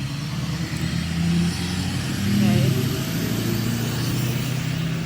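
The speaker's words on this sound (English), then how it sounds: "now we have this big truck coming, so I'm gonna wait for this guy to pass" Big trucks rumble past on a roadside with a heavy, low engine drone that swells as one nears and then holds steady. A voice speaks briefly over the traffic.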